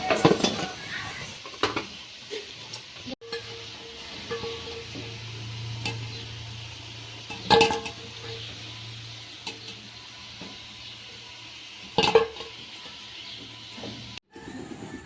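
Sweet potato pantua balls deep-frying in oil for a sweet, giving a steady hiss and sizzle with occasional clinks and scrapes of a utensil stirring in the pan.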